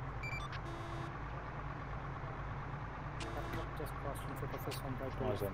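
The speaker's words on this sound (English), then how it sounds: "We believe it's a truck on the left-hand side of the road." Engine of a truck rumbling steadily on a road in the military game Arma 3, close and continuous beneath radio-style squad talk, with brief electronic beeps overhead.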